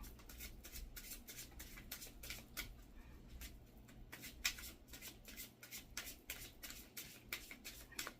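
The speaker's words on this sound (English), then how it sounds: "I'm going to pull one more card from this shamanic healing" Oracle cards from a shamanic healing deck being shuffled and pulled by hand, a steady run of soft papery flicks and riffles close up with no talk.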